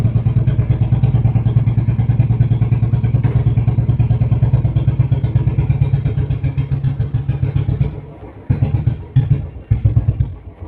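Royal Enfield Bullet motorcycle idling in gear with the clutch held, a loud, close, steady low thumping beat that runs evenly before stumbling and sputtering unevenly near the end.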